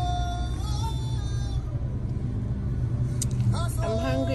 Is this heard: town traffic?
yes